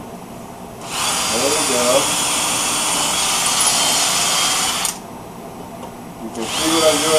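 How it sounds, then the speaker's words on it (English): Power drill boring an inch deep into a wooden tabletop piece in a wood shop, a steady high whine running about four seconds, then a brief pause before it starts again; someone speaks briefly. "So we'll drill an inch into this side and an inch into the other piece."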